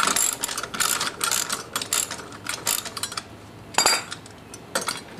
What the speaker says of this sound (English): I'm just going to back this bolt out.